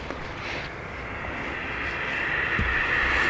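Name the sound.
Ryanair jet departing Dublin Airport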